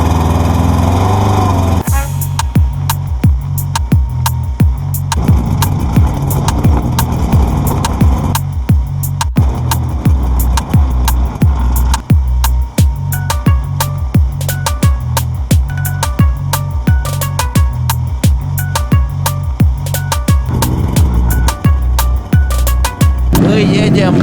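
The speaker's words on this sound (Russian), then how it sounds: "Ну что, поедем мы кататься на буране." A Buran snowmobile engine on the frozen Pechora river chugs loudly and rhythmically, with a rapid, regular firing pulse that starts after a brief pause and keeps running close by with slight shifts in pace.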